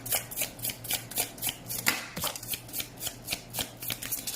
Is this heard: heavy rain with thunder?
no